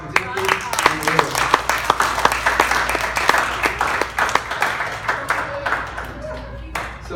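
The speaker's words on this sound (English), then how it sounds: "Let's give a round of applause for Timothy and Ava." An audience at a Bible camp gives a round of applause, with sharp individual claps standing out over the crowd, while voices and cheering mix in and the clapping thins toward the end.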